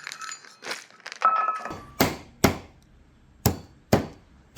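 Whole allspice is crushed in a plastic bag, first some crinkling of the bag, then four sharp, loud knocking blows spaced about a second apart, close by, with no talk.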